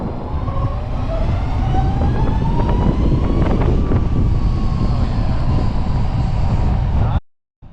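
A SAVIC C-Series electric motorbike riding off, with a rising whine over loud, steady wind rush that runs continuously before cutting out abruptly near the end.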